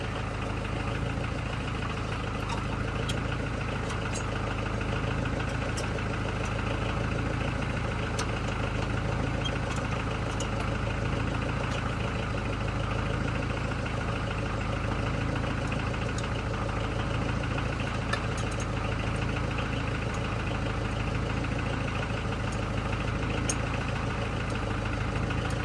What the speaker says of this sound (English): Just as you get this tractor running just right.